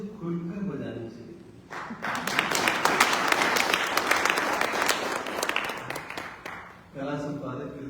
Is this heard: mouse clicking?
no